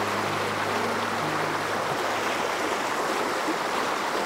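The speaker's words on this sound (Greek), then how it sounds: "Είναι ο ποταμός κάτω από το Άγιο Χιμισίλιο." The river below Agios Chimisilio, flowing toward the Kouris dam, rushes in a steady broadband wash of water, close and continuous, with a faint low hum at the start.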